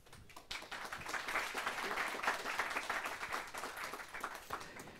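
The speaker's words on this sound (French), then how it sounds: "Il n'est pas interdit de les applaudir." Applause from an audience at a conference on industry's environmental transition, rising quickly after a quiet start into steady dense clapping that stays moderately loud to the end.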